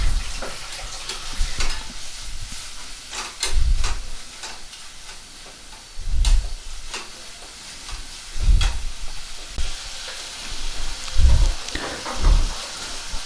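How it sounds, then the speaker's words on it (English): Gobi manchurian sizzles steadily in a hot pan while a spoon stirs it, with periodic louder scraping strokes against the pan about every couple of seconds over a constant frying hiss. "Mix it thoroughly so that it reaches every"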